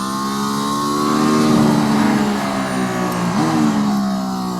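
A loud engine revs up steadily, pitch climbing as a Mercedes-AMG ONE race car accelerates hard out of a corner on a track, with a brief dip and renewed climb near the end.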